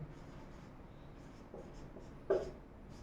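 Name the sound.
writing a definition on a board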